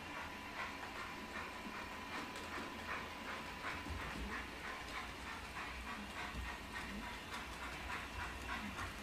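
A J15 model railway locomotive with a sound decoder runs steadily on a layout, giving a continuous low mechanical rumble with faint rhythmic clicks and ticks that stay in the background throughout.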